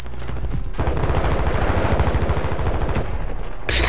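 Dense automatic gunfire rattles in a fast, loud burst of rapid shots in Call of Duty Warzone 2.0, with game ambience continuing before and after the volley.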